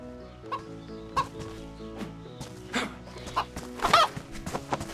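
A chicken clucks near a farmhouse in DayZ, with short irregular clucks and squawks over faint movement and footsteps.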